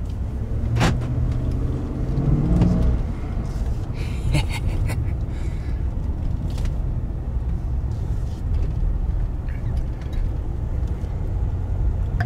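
A pickup truck's engine idles steadily to warm up, a low continuous rumble close by with a brief higher whine early on and light cab noises over it.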